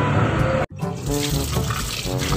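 Water runs loudly from a tap while soaking chicken feet, splashing steadily, with a brief break before the flow resumes.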